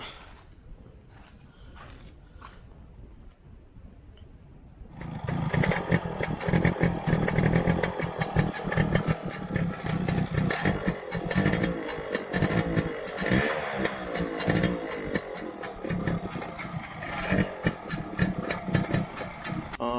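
A restored Yamaha RX135 two-stroke motorcycle with a rebored engine and new silencer starts after a few quiet seconds, then runs loud and close with a rapid, crackling idle and revs for about fifteen seconds, with no talking.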